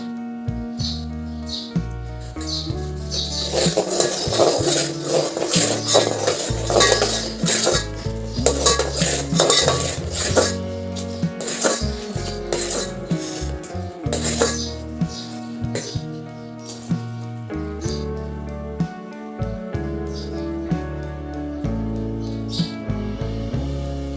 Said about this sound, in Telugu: ఇట్లా కలపలేనదాకా మనం కలుపుతూనే ఉండాలి